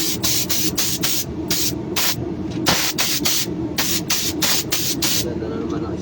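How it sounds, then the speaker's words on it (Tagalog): Rapid bursts of aerosol spray, about a dozen short hissing puffs in an uneven rhythm, loud and close, with steady background noise underneath. "Spray muna tayo."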